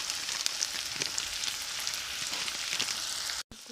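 Onions sizzle and fry in oil with salt and turmeric added, a steady close hiss with faint crackles throughout, ending in a brief cut of silence before frying resumes.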